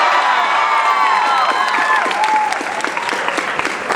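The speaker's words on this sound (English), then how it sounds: "I know that that crowd must be cheering" A large convention crowd at the San Diego Comic-Con 2013 panel applauds and cheers loudly, dense clapping with whoops and high shouts over it, sustained for the whole stretch.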